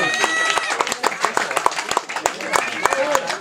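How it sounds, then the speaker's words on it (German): A crowd applauds at the award ceremony of the 1543er Gaudirace 2013, a fun race: dense, irregular claps ring out close by for the whole stretch, mixed with voices and cheering. "heftigen Applaus natürlich."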